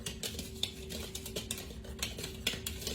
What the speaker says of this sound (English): we're just going to whisk this up